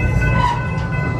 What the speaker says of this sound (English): Now it's time to get on a train